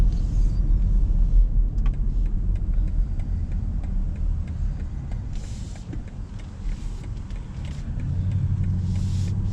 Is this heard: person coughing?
no